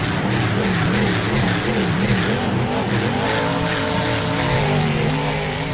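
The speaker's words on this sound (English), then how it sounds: "Both trucks take off here." Loud, sustained engine roar as the Junkyard Dog and Mohawk Warrior monster trucks launch and race in a Rigs of Rods simulation of Monster Jam in Brisbane, with wavering revs, shifting pitch, and tire scrubbing, no voices.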